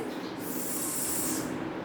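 A voice imitating a snake's hiss, the sound of the letter S: one sustained, breathy hiss of about a second, close and moderately loud, with no words spoken.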